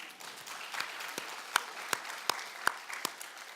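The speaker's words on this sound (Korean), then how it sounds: "여러분, 이분이 누군지 모르지만 박수 한번 합시다" A church congregation applauds during a sermon, a low, scattered patter of clapping with a few sharper claps standing out, moderately distant and fairly quiet, with no talking over it.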